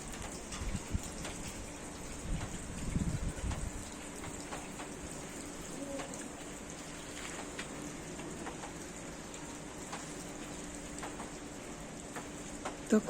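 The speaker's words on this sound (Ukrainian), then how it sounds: "зараз почався сильний дощ і вітер" Heavy rain with wind falls outdoors at the Kyiv Pechersk Lavra. It makes a steady, fairly faint patter with scattered sharper drops and a brief louder gust near the start, and no one speaks.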